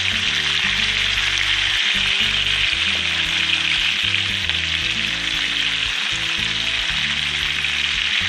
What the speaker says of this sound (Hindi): तेल डालने का ये फ़ायदा होता है कि एक तो मच्छी फ्राई पैन के साथ में लगेगी, दूसरा जल्दी से पक जाएगी